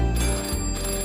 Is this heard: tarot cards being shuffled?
no